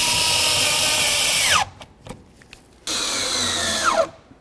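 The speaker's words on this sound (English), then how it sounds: "Let's go ahead and start in all of our mounting bolts here." A power drill drives mounting bolts into the door of a 2006-12 Ford Fusion during a handle replacement, with two loud sustained whirring runs that wind down, separated by a pause with small clicks.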